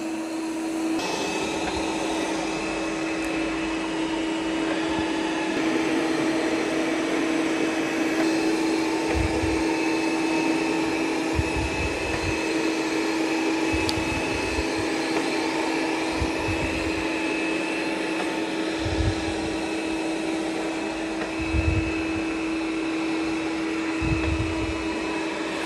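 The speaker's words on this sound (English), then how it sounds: "So now it's going to start vacuuming in straight lines." Roomba i5 or Roomba 105 robot vacuum cleaner running across the floor in straight lines, a steady close motor whine with a constant tone and soft periodic low thumps.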